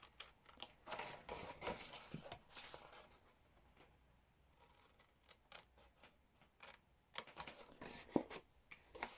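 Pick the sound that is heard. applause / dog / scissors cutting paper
scissors cutting paper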